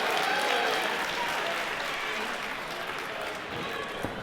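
A wrestling crowd roars and claps throughout a match, a dense, sustained wash of cheering and applause that stays loud from start to finish.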